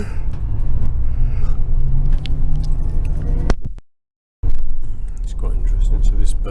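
Inside a city airport bus in Taiwan, a steady low engine rumble and road noise run throughout with rattles and jingling, cut by a brief silent gap before the ride resumes.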